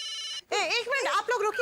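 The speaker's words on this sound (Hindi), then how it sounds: "आप लोग रुकिए, तारक का फोन है।" A telephone rings with an electronic trill for a moment, then cuts off as someone begins speaking.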